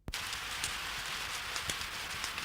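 Steady rain falls heavily on a surface, giving a dense, continuous hiss with scattered louder drops. It is close and even throughout, with no talk.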